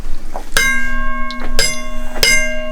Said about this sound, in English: 3 bells.